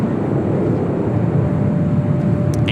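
An Alaska Airlines Boeing 737-800 arriving at LAX gives a steady, low jet roar from a distance, constant and unbroken throughout, with no talk over it.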